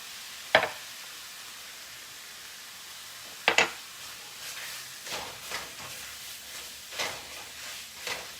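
Chicken browning in a stir-fry pan for a pineapple sesame ginger stir fry gives a steady low sizzle, broken by two sharp clatters near the start and softer scraping stirs later on.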